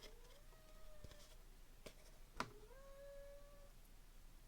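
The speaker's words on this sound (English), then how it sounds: "If you guys hear that, that's my cat outside the door" A cat meows faintly a couple of times from behind a closed door, sounding muffled and distant, with a sharp click between the calls in a quiet room.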